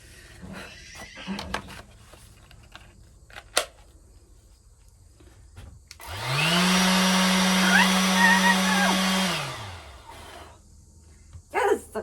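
Battery-powered blower started up in a horse barn setting, a loud steady whirring drone lasting about three seconds amid quiet surroundings, rising and falling at start and stop, with faint knocks before and after.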